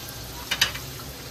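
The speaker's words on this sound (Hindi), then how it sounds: "ये जो मैंने आपको लहसुन बताई थी कुटा हुआ, इसको अच्छे से इसमें भून के लेंगे" Crushed garlic fries gently in butter and oil, giving a low, even sizzle broken by two quick clicks of a spoon or pan.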